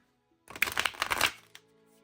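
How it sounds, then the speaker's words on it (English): A quick riffle of oracle cards being shuffled, a short crisp burst of flapping and snapping, close up in a quiet room. "these shuffle great"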